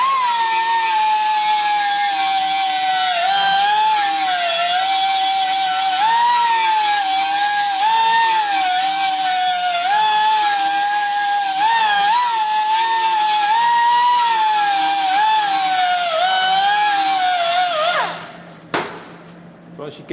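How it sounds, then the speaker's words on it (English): An angle grinder takes down a weld seam on a fabricated car sill, giving a steady, loud, high whine for about eighteen seconds before it spins down and stops, with a few brief knocks at the end. "the idea with this is that you take the weld off without affecting the surface of the metal"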